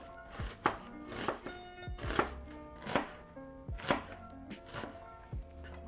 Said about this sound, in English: I'm just gonna cut this little end off there.